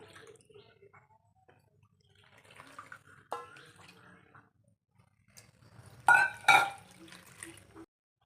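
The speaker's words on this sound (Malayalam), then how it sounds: "നമുക്ക് ഇതിലേക്കൊരു 3 കപ്പ് വെള്ളം ഒഴിച്ചു കൊടുക്കാം." Water is poured from a cup into roasted rice flour in a bowl, a faint trickle with scattered drips and a brief louder splashy gush near the end, then quiet.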